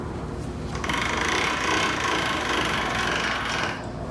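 A hand-cranked pasta machine rolls dough through its rollers. The mechanical whir and ratcheting clicks are close and steady, then stop abruptly at the end.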